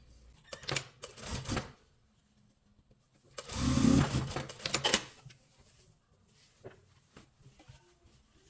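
A sewing machine stitches a tailored collar coat in short bursts, a few quick runs of rapid mechanical clatter separated by quiet gaps, close and fairly soft.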